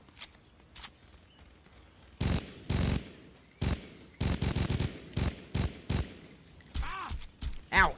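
Gunfire in the video game Saints Row 2 comes in sharp bursts and single loud shots spread over several seconds, with gaps between volleys and a voice talking briefly near the end.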